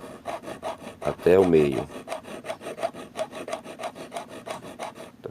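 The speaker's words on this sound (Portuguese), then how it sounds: "Vamos limar do fundo" A hand file rasps the jaws of pliers in quick, regular back-and-forth strokes, close and loud and continuing throughout, while someone briefly speaks over the filing.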